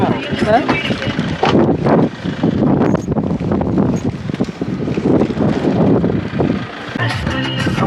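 Strong stormy wind buffeting the microphone in Kerala, a loud continuous roar with gusty surges throughout, with people talking over it.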